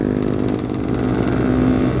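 Motorcycle engines, 150 cc bikes and a Yamaha RX King two-stroke, on a relaxed night ride, a steady loud buzzing drone with slight revving, close and continuous throughout.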